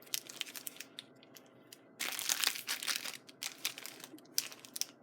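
Plastic Ziploc bag crinkling and rustling as it is pressed flat to force the air out, close up, with a steady burst of denser crackling in the middle and no talking.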